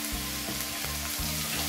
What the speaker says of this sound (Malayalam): ഹൈ ഫ്ലെയിമിൽ വെച്ച് തന്നെ നമ്മളിതൊന്ന് വഴറ്റിയെടുക്കണം